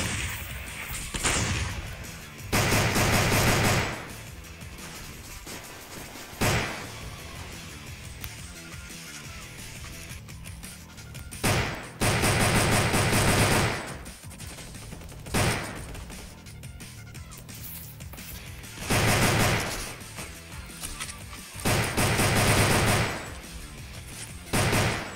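Gunfire in a Roblox zombie survival video game, rapid bursts of shots in several loud clusters separated by quieter stretches, with sharp single cracks in between.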